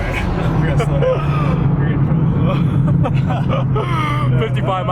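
Mitsubishi Evo under hard, fast acceleration, its engine droning steadily throughout as it runs at speed, with occupants talking over the noise inside the car.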